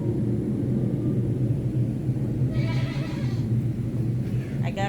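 Goats bleat inside a goat shed on a homestead, a single wavering bleat rising over a steady low rumble of background noise, followed by a brief shorter call near the end.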